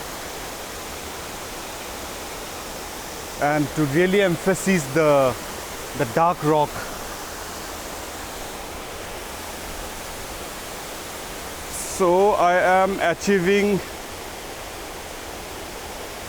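Waterfall water pours in a steady, broadband rush across the whole stretch, a constant close roar that stays unchanged while someone speaks briefly at two points.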